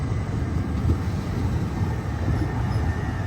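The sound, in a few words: train at station platform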